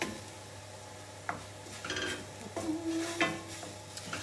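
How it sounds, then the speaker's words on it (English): Quiet kitchen frying of onions, ginger and garlic with soft sizzling and occasional clinks and scrapes of utensils against a pan, no talking. "We're just frying off onions, ginger, and garlic."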